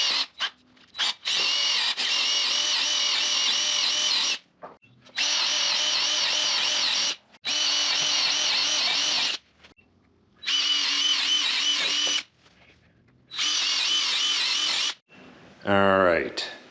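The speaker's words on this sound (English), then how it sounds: "I'm going to drill those holes" A power drill boring holes in lumber for a timber-frame partition wall truss, in five long, loud bursts separated by short pauses, ending with a rising whine as the motor spins up.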